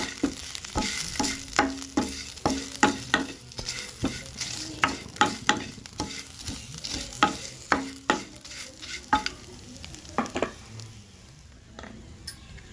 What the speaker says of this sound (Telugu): ఇంగువ వేసుకొని మరోసారి కలుపుకోవాలి